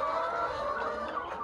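Aging laying hens cluck softly inside a henhouse, a few overlapping close murmurs and short clucks with no talking.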